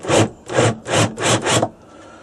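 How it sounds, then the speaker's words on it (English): Countersink bit grinding into a synthetic rifle stock for a butt pad fitting: four even rasping strokes in steady rhythm, close and fairly loud, then quiet. "use the countersink on it"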